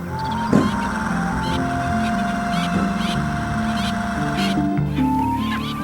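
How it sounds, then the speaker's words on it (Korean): Black-headed gulls call at an artificial landfill breeding ground: a handful of harsh, short cries and squawks rise over a steady low background rumble, with a drawn-out tonal call running through the middle. "월동지를 향해 떠나는 검은머리 갈매기."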